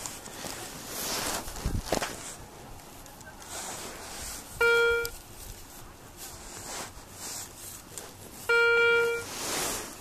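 Two short bursts of high electronic beeping from a metal detector pinpointer, several seconds apart, stand out against outdoor rustling and wind.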